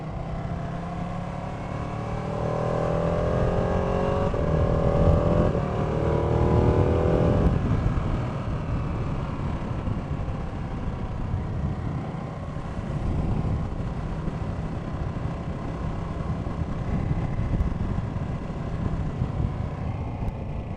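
Ducati 959 Panigale 2016 motorcycle on a UK road, its engine revving hard through gears early, then a steady droning run with wind rush, loud and continuous without talk.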